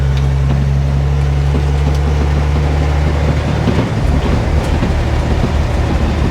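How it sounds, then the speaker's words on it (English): A 1957 REO dump truck drives along, its engine giving a loud, steady low drone with rumbling and rattle throughout. The deep tone drops partway through as the truck keeps running. "this old truck runs and drives pretty good now"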